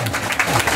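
Brief burst of audience applause at an outdoor Korean National Foundation Day ceremony in Tapgol Park, Seoul: a dense, steady patter of many hands clapping at once, lasting under a second.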